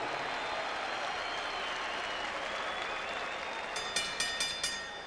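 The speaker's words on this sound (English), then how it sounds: "ladies and gentlemen, a round of applause and a wish for speedy recovery to the Paz." Crowd applause fills a boxing arena at a heavyweight bout night, a steady wash of clapping from a large audience, with a few sharper bursts rising near the end.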